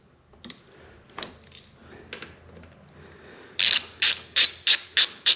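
An Allen socket on a ratchet breaks loose the lower clamp fork bolts on a BMW F650GS Dakar motorcycle, first with a few soft scattered clicks, then a loud, close run of about six sharp ratcheting clicks.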